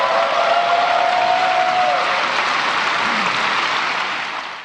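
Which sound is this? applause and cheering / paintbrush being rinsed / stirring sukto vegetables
applause and cheering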